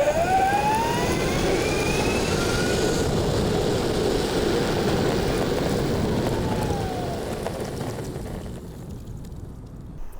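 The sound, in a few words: electric longboard with 90mm motors accelerating hard then braking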